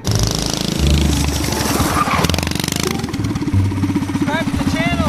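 A 212cc go-kart engine revs and idles with no muffler fitted, loud and close, its raw sputtering bark rising and falling, with a person talking briefly near the end.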